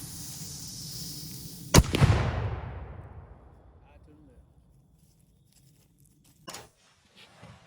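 A black powder cannon fires a washing machine round, one sharp loud boom followed by a long rumbling decay that fades into quiet, then a couple of faint knocks later.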